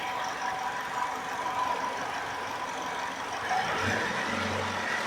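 Engine of a 2012 Chevy Malibu running steadily in a garage, a continuous close rumble with the revs climbing slightly near the end.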